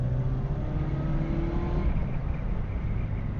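A supercharged G60 engine in a VW Golf 2 GTI drones loudly and steadily at high revs, a dense continuous roar with no pauses.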